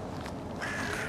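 A crow caws in the winter survival video game Winter Survival, a harsh call rising over a steady wind-like ambient bed, loud and close for about a second.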